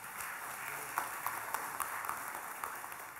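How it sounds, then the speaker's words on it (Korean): An audience at a clan association's annual general meeting in an auditorium hall applauds, a faint, distant spread of light clapping with a few sharper claps standing out over its three seconds. "양해해 주신다면 박수로 응답해 주시기 바랍니다"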